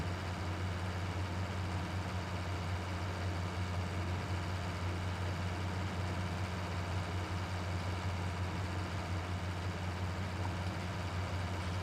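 Farm tractor engine with a faulty steering runs steadily at a low, even rumble throughout, fairly quiet and unbroken, with no voices present.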